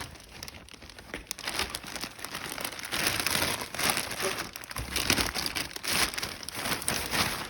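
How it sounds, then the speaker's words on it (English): Packaging crinkles and rustles continuously and up close as a Honda Navi motorcycle rear rack is unboxed. The crackling is dense and textured, with no talking over it. "But kind of unbox the rear rack here."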